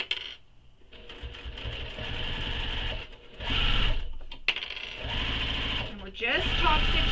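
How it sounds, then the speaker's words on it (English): A sewing machine top stitches a tote bag in several close, rhythmic bursts separated by short pauses, running under a person's speech. "Just top stitching using the seam allowance given in the pattern"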